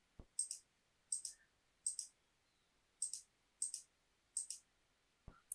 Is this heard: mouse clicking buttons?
yes